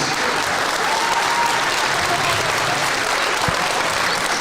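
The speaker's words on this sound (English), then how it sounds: "let's have a round of applause again for both teams in the seasons" Loud, sustained applause from a large crowd at a high school girls' basketball sectional final, continuous and dense throughout.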